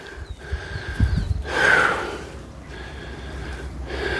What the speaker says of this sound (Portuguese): Por isso a maioria dos vídeos eu tô respirando assim.